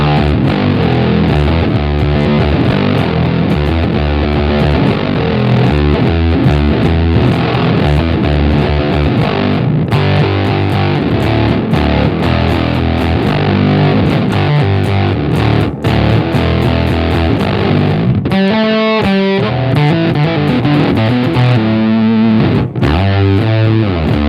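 Bass guitar played through an EarthQuaker Devices Fuzz Master General pedal with the fuzz set around 3 o'clock, giving a continuous, loud, thick distorted tone with sustained notes and chords and no talking.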